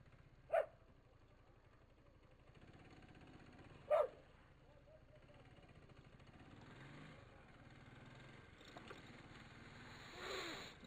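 A female dog waiting nearby gives two sharp barks a few seconds apart over low background hum, with faint rustling afterward.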